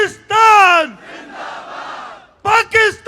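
A crowd at a press club event in Karachi answers a slogan with loud shouted chants, two strong unified cries framing a softer murmuring stretch.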